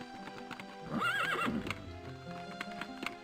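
A horse in the video game The Elder Scrolls: Daggerfall gives a loud, wavering neigh over a steady clip-clop of hooves that continues after the whinny fades.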